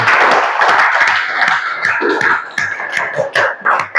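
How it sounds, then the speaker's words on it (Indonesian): Classroom applause for a student group: many hands clapping together in a dense, steady patter for about four seconds, loud and close, thinning into a few scattered claps toward the end. "Kita beri aplaus terlebih dahulu"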